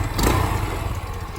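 A Grom clone motorcycle engine running at idle, a close, steady low rumble with light mechanical clatter over a short stretch.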